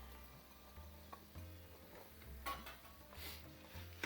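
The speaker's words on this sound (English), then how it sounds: "and stir the green coriander" Green coriander is stirred into cooked chicken mince in a pan, with quiet scraping and occasional spoon knocks against the metal, faint and close, no talk.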